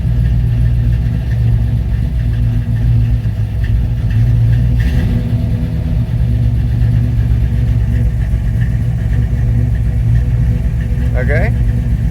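Chevrolet Nova engine idling cold with a raised, steady idle, a continuous low rumble at close range while people talk over it.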